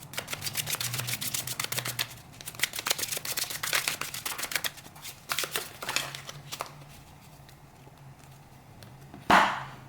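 A tarot card deck is shuffled in quick, crisp riffling bursts, with sharp papery clicks and brief pauses between passes, ending with a louder single slap of the cards.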